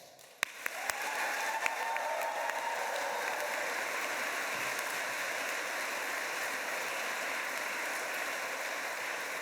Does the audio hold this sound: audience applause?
yes